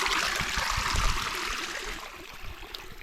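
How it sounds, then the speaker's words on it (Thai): Stream water flows and trickles steadily close by, a soft continuous rushing and gurgling with no voices over it. "น้ำไหลตรงนี้"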